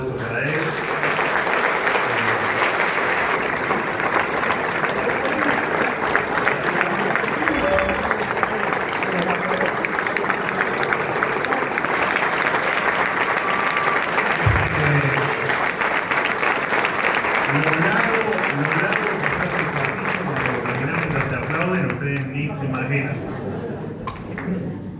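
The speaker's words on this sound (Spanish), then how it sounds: "un fuerte aplauso para él" A conference audience gives Agustín Laje sustained applause, loud dense clapping rolling on for many seconds with crowd noise and some voices mixed in.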